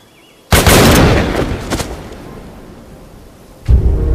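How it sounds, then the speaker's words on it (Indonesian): A single loud gunshot in a Prison Break film scene cracks with a long, decaying echo, followed a few seconds later by another abrupt loud hit. "dengan angkuhnya Paul pun menembak tepat di bagian kepala"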